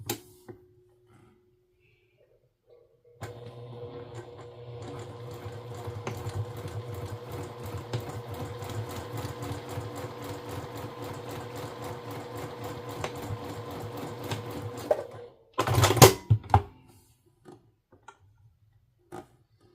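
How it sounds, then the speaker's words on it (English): A domestic sewing machine stitches fabric for a stuffed blue dog toy, running in one steady rapid whirring burst of about twelve seconds, then a short louder clunk and a few faint clicks near the end, with no talk. "I'm going to go ahead, take us to this machine, and get that sewn up."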